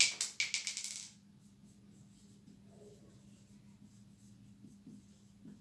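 Handwriting during a trigonometry lesson: a quick run of about eight sharp pen or chalk strokes, loud and close, then quiet room tone with faint low hum.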